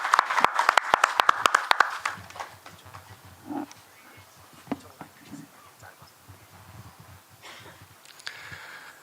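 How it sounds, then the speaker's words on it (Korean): Audience applause at a temple food international academic symposium bursts out for about two seconds, then dies away into quiet room noise with a few scattered knocks and shuffles. "박수로 부탁드리겠습니다"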